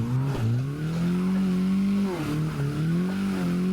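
Mazda MX5 Miata drifting at a drift park, a loud engine note wavering as the throttle is feathered, with tires squealing continuously underneath, close and steady throughout.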